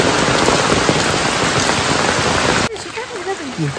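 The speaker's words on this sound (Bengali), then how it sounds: "জোর বৃষ্টি। কিভাবে আমি ভিডিও করবো এখন?" Heavy rain pours down during a storm in a village, a loud, dense, constant roar of drops that stops abruptly near the end, after which a voice is heard talking.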